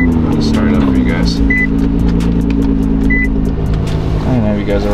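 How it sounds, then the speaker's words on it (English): A JDM car engine on a cold start running loud and close at a high, steady idle, with a constant rumbling drone that holds throughout. "I don't know if you guys already heard this cold start in this car a lot of times."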